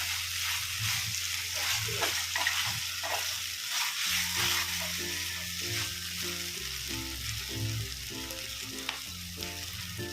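Cheese pasta sizzles and fries in a pan while being stirred, a steady crackle with scraping stir strokes throughout.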